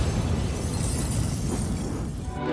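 An explosion blows apart a crime scene in the Indian drama film Haseen Dillruba, a dense, sustained roaring blast with crackling debris filling the whole clip at steady loudness, no voices.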